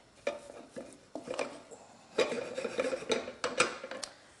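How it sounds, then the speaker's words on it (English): A spoon stirs balti couscous round a pan to separate it, giving a steady run of close scraping and clinking strokes that grow busier partway through. No voices. "We're going to stir it round"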